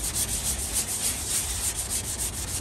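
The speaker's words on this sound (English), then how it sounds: "And you just sand it down to that line." Steady, rhythmic rasp of sandpaper rubbed back and forth on a surface, close and continuous with quick even strokes.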